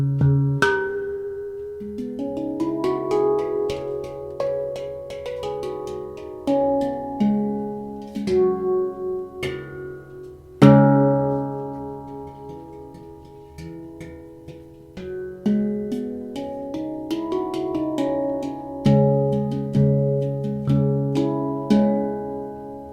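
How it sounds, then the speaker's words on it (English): A steel hang drum, or hand pan, is struck by hand in slow flowing phrases, each note ringing out with long metallic resonance, close and clear with no voices. "This is called the hung drum, or more modernly known as the hand pan."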